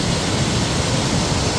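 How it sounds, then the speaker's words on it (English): Dismal Falls on the Appalachian Trail roaring steadily, a broad continuous rush of heavy falling water heard from nearby without any voices. "that's the waterfall"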